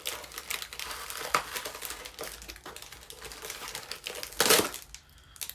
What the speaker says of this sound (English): I tape this sucker in.